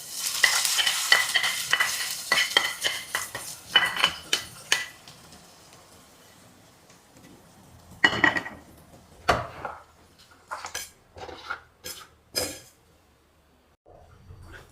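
Kerala-style prawn roast curry being stirred in a pan, loud sizzling and scraping strokes early that fade to quieter, separate stirs and clinks.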